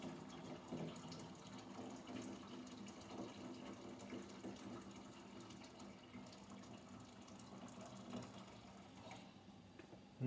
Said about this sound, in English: So I got the kettle water, and I'm going to use that to help speed up the boiling process.